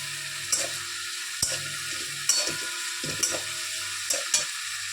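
Fried rice with cashews and raisins sizzles in a pan, with a steady frying hiss broken by regular spatula scrapes and taps about once a second, close and clear, no talk.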